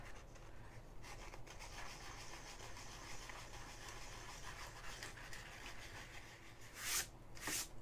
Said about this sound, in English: I'm just going to sand them a little bit